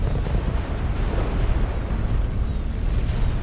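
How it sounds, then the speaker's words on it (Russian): Artillery shelling in the Ground Control 2 strategy game makes a continuous, dense rumble of booming explosions that churns and thuds steadily throughout, with no clear gaps and no speech. "Мы под обстрелом!"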